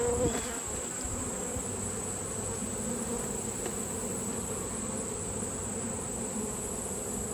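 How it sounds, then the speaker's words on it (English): Honey bees in an open hive make a dense, continuous buzzing hum, steady and close throughout, with faint handling sounds at the start. "Yep, nice brick of bees."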